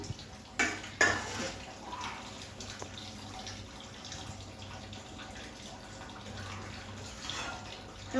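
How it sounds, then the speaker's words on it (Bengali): Water is poured into a pot of curry broth on the stove. It makes a soft, fairly faint splashing and trickling, with a couple of louder gushes near the start, and no one speaks. "আর এবার আমরা জলও দিয়ে দিলাম।"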